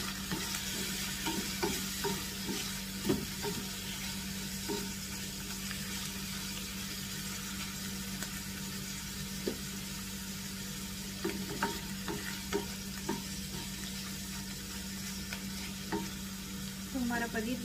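Paneer frying in a pan for a homemade pizza recipe, with a steady, close sizzle and occasional light stirring clicks and scrapes throughout, no talking.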